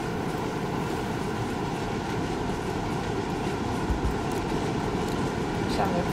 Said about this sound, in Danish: Oi, nå kommer toget.